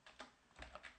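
Several quick keystrokes tap on a computer keyboard, light and close, in an otherwise quiet room.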